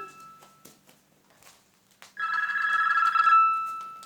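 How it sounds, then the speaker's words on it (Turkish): A telephone rings indoors: after a quiet stretch with faint rustles, a loud, steady electronic trill starts suddenly and continues for over a second before fading out. "Bir telefon çalıyor."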